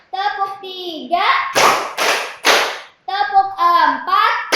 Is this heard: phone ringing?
no